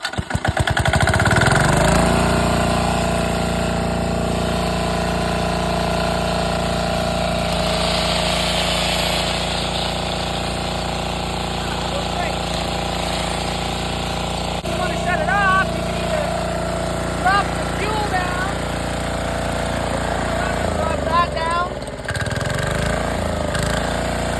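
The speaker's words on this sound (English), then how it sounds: "push down the decompression lever, make sure your fuel's up, and then pull the cord." A Chinese-made diesel engine driving a Montgomery Ward generator catches after a pull start and then runs at a steady, loud, close idle with a rough, droning rhythm throughout.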